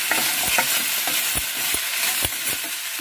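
Sliced okra sizzles in hot oil in a pan while a spatula stirs it, giving repeated sharp scraping knocks against the metal over a constant bright frying hiss, close and fairly loud.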